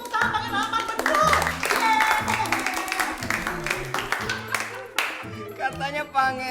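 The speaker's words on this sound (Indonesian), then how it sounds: "Hei, tepuk tangan dong semuanya" A classroom of students clapping together for a correct answer, rhythmic hand claps mixed with chatter and voices talking over them, close and lively.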